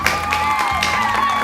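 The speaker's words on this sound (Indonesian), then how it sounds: "Tepuk tangan dulu buat Pak Haji." An audience claps and cheers for Pak Haji at a comedic stage show, a loud continuous wash of applause with a few whoops over a low musical backing.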